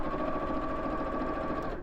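A sewing machine runs a basting stitch straight along the top edge of a bag flap, giving a steady, close motor whir with fast needle chatter that holds evenly for under two seconds before slowing to a stop.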